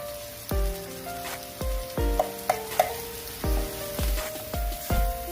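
Golden corn kernels tipped into onions frying in a pan, each addition landing as a sharp clattering burst followed by a brief sizzle, repeated several times in an irregular rhythm.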